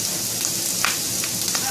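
Leftover rice cooked with turmeric frying in a pan, a steady dense sizzle with a few soft stirring scrapes, close and moderately loud.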